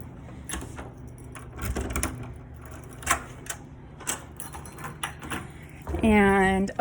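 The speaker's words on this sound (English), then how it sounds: "Let me grab my keys." Keys jangle and a lock clicks as classroom doors on a university campus are unlocked, a series of small metallic clinks and rattles close by, ending in a louder clunk and creak, with faint background speech.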